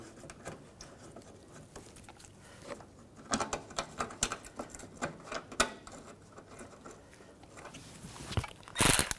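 Screws being driven and tightened into the front grille of a 2006-2010 BMW 550i, a quiet run of irregular clicks and ratcheting taps close by, growing denser near the end.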